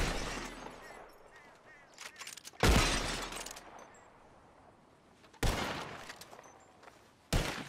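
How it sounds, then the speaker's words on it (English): Revolver shots at bottles in Red Dead Redemption 2: three loud, sharp cracks spaced a few seconds apart, each with a decaying tail, over quieter in-game talk and ambience. "Who can shoot the most bottles? Just draw your gun and aim when you're ready"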